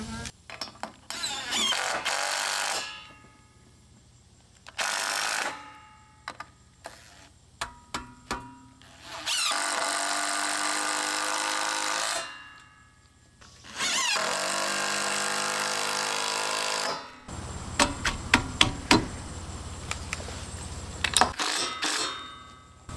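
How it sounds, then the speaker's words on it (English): A power tool driving bolts to fix metal stair stringers to a house, several long whirring bursts of a few seconds each separated by pauses, with sharp metallic clicks and knocks in between. "I'm going to bolt this to the house and then bolt those in so it pulls it down."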